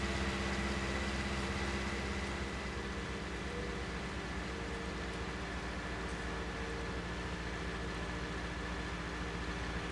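A tractor engine idles steadily in Farming Simulator 19, a constant low, droning hum at moderate volume with no talk over it.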